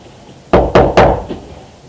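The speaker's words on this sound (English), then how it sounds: "Quit knocking on the wall." Three firm knocks on a wall come in a quick, even rhythm, loud and close, followed by a softer fourth tap, with no voices.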